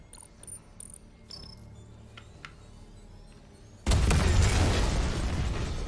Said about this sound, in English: Big booms.